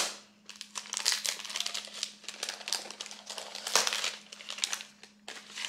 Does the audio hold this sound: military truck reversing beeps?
no